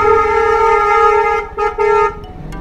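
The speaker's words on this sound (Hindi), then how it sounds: "ये वाला हॉर्न जहाँ बजता है ना, वहाँ से बंदे ऑटोमेटिकली साइड हो जाते हैं।" A loud, close musical vehicle horn sounds a sustained melodic tone on a road, then breaks into a few short blasts before cutting off, with no talking over it.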